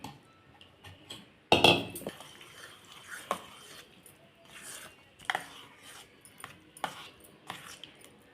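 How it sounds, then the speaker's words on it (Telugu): Soft-cooked rice is mixed with curd and salt, giving quiet, scattered spoon scrapes and clinks against a dish, with one louder clatter early on, in an otherwise hushed room. "మెత్తగా ఉడికించుకున్న అన్నంలో పెరుగులో కాస్త ఉప్పు ఇలా వేసి కలుపుకోవాలండి"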